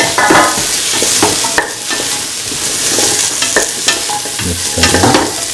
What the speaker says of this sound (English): Mix the potato pieces with the rest of the mixture.